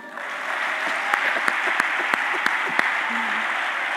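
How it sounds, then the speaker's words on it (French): A church congregation applauding for Jesus during a sermon, dense sustained clapping from many hands with a few sharper individual claps standing out, steady and fairly loud throughout. "acclamons pour Jésus"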